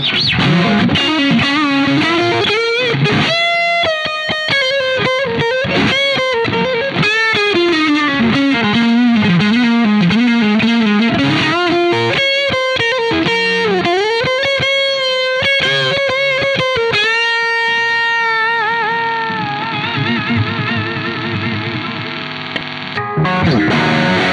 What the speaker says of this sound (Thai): เสียงแตกค่อนข้างดีนะครับ